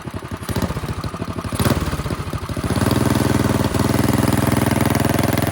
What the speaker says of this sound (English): That idle is crazy. I think it does need to be idled up some, but it's hard to tell until it's warmed up.